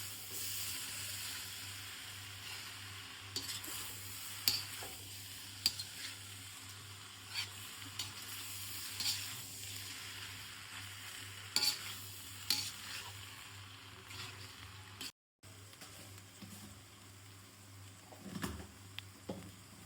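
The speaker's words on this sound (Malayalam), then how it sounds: "അങ്ങനെ ബീഫ് എല്ലാം കൂടെ ഇളക്കി കൊടുക്കാം." Beef chunks for a Kerala-style beef roast sizzle and hiss in a pan while being stirred, with soft scraping and pattering over a steady frying crackle.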